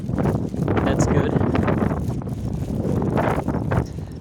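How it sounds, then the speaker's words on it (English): Strong wind blows across the microphone in a park, making steady, loud roaring gusts that persist throughout, with faint background voices. "Pretty windy here today"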